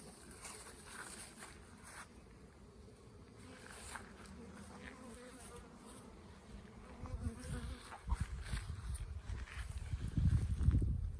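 Honey bees swarm and buzz steadily around newly installed hives in an outdoor food forest garden. The drone stays continuous and close throughout, joined toward the end by louder rustling and thumping movement nearby.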